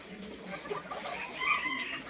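Bantam chickens at a farm in Khon Kaen cluck and call in short, scattered bursts over a soft background hum, fairly close by, with no clear speech.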